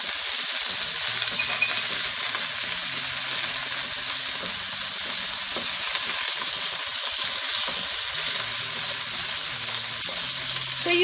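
Mutton pepper fry (mutton chukka) with onions and spices sizzling hard in a pan, a loud, constant frying hiss with occasional stirring scrapes and no talk.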